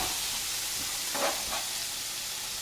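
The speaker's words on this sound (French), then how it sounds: "l'huile est chaude, le beurre a bien fondu, nous allons incorporer les oignons" Onions dropped into hot oil and melted butter set off a steady close sizzle, a broad hiss that swells briefly as they go in, then settles into continuous frying with no talking.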